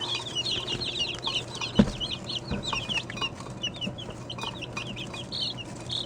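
Young chicks peep and cheep in a busy, overlapping chorus of high chirps throughout, with a single louder thump partway through.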